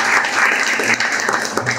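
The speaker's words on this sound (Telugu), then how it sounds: "ఆయనకి మీరందరూ చప్పట్లు." Steady, loud audience applause fills a farewell gathering in S. Thimmapuram village for transferred village secretariat employees, a dense wash of clapping throughout with no break.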